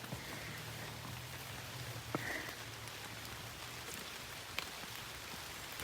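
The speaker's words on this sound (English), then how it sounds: "I'll just hope that this rain will be kind and light." Light rain falling on the Appalachian Trail: a faint, steady patter with a few sharper drops, distant and quiet, with no voices.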